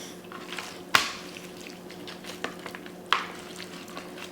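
Hands rub a generous douse of olive oil into a chateaubriand beef cut on a tray, making soft wet squishing and smearing sounds with a couple of sharper slaps, close and steady.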